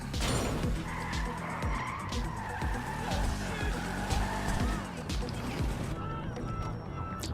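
A car is driven hard during a GTA Online heist mission, its engine whining steadily while tires screech and skid in repeated bursts, loud and close throughout.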